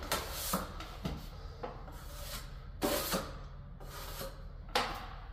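A plastering trowel scrapes and rubs filler into a drywall shrinkage crack with repeated short strokes and wiggles, close and fairly quiet, with no talking.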